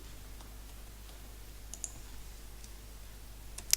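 A computer mouse clicking during a word-processing task: a few faint, sparse clicks over a steady low hum, ending in one sharper, louder click, with no talk.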